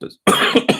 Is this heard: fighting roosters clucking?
no